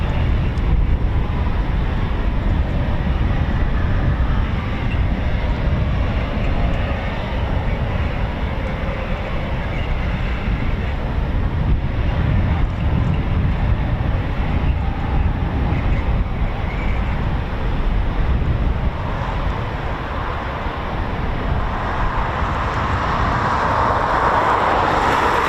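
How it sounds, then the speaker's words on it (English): Eurofighter Typhoon FGR4 jet of 29 Squadron taxiing at RAF Coningsby, a steady broadband engine rumble and whine that holds near and loud throughout, swelling slightly toward the end with no talk over it. "our first Typhoon taxiing out now"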